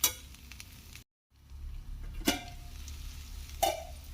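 Ivy gourd (tindora) fry is stirred in a pan, giving soft scraping and a low steady sizzle, with a couple of sharp utensil clinks against the pan and a brief silent gap partway through.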